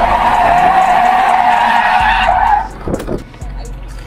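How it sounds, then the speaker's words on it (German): A Hyundai Genesis Coupe skids through a drifting lap, its tires squealing in a loud, steady screech close by that cuts off sharply after about two and a half seconds, leaving quieter engine and road noise. "Wir fahren jetzt eine Runde kurz zum Abkühlen, weil das Auto einfach exorbitant heiß ist."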